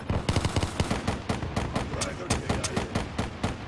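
Rapid bursts of gunfire in a Call of Duty Black Ops III multiplayer match, tight repeated shots close by with a dense, crackling rhythm throughout and no voice over them.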